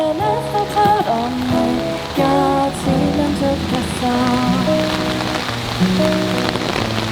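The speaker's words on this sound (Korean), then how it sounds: "여러분 정말 이 노래 부르라고 비가 이렇게 오나 봐요." Steady rain falls throughout an outdoor busking performance on a green walkway, a constant wash of patter mixed under loud live music.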